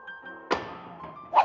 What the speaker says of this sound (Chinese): 现在的关门声音听起来就舒服